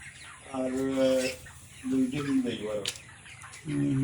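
Chickens cluck in bursts at a broiler poultry farm of about seven hundred 28-day-old birds near Masukali bazar in Dashghar Noagaon, with a few separate calls close by and people talking nearby.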